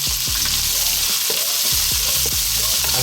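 Onions sautéing in a hot pan for Tagalog lumpia filling, a steady loud sizzle broken by several sharp scraping stirs of a utensil against the pan, with no voices.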